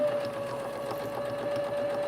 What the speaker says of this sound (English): and I'm just gonna sew, just sewing along that edge.